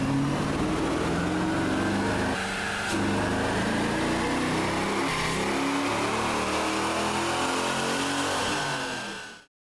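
Car engine on a dynamometer, fitted with a long intake, snapping from steady partial throttle to wide open, a loud sustained rising roar with a brief dip partway through before cutting off abruptly at the end.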